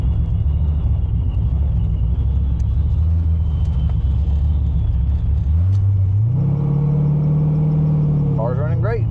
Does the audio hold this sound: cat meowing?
no